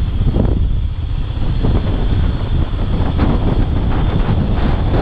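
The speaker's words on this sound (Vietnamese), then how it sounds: "xuống đây gió gió kinh luôn gió mạnh lắm" Strong wind buffets the microphone at Quy Nhon port on a cold December day, a loud continuous roar with gusty low rumble throughout, no voices.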